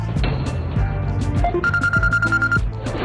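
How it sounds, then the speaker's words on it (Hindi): A telephone rings with repeated electronic tones and a sustained beeping note, loud and close, over a busy layered background of other sounds. "उसका फोन बजने लगा।"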